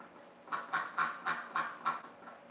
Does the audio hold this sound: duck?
yes